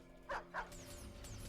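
Two quick dog barks, close and loud, sound in the strategy video game Stormgate, followed by thin whistling game effects over a low background hum.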